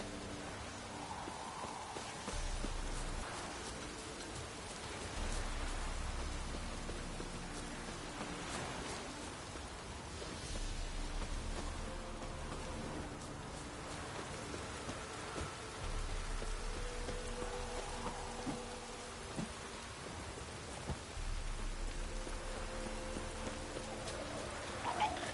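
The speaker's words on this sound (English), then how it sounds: "Looks like rain." Steady rain in a video game patters on surfaces throughout, a soft continuous hiss with low rumbling underneath and faint occasional thuds, no talking.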